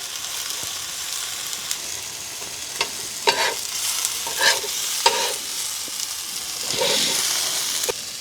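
Food sizzles and fries steadily on a camp stove under a snowy-woods awning while cheese melts on top, with several brief scraping stirs cutting through the continuous hiss.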